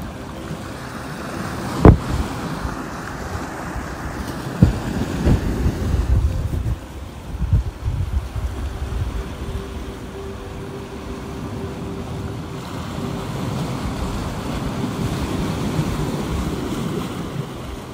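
Outdoor wind gusts rush across an open microphone with a low, steady roar, broken by a few sharp buffeting thumps early on, then settling into a continuous blustery wash with no voices.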